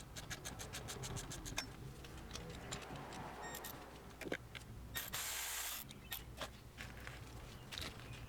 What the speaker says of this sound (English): now I'm going to use a E10 socket to take off the bracket